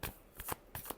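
A few quick, close riffles of tarot cards being shuffled, soft papery flicks in short bursts with no talking.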